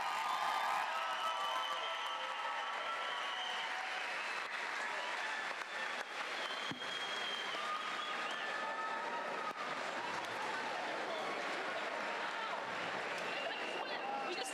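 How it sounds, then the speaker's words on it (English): Crowd applause and light cheering at a SplashDown swimming event for Ryan Lochte and Charlie Lydecker, a steady distant wash of clapping beside the water, with some voices mixed in. "Another round of applause"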